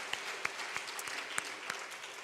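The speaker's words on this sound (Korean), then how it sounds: "수고한 우리 교사들에게 박수 한번 보내주시고요." A church congregation at a Sunday afternoon service claps for the teachers, a soft, thin patter of applause with a few sharper individual claps standing out.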